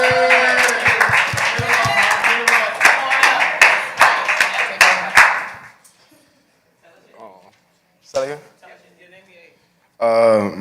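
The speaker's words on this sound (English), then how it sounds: "Let's clap him up." An audience at a New York youth and college forum claps loudly and rapidly for several seconds, then the applause stops and a person starts speaking into the quiet room.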